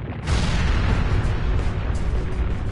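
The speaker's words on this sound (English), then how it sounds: "An explosion?" A loud, sustained rumbling explosion from an animated show begins with a sudden onset and holds as a dense roar for a couple of seconds, with no voices.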